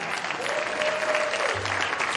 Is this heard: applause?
yes